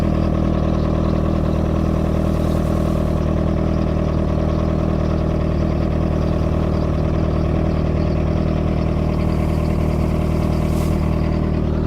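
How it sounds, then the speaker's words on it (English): Outboard engine of a dinghy runs steadily while being flushed with water, a loud, constant mechanical drone with a dense low rumble, close by and without talk. "Now we got water running through the engine."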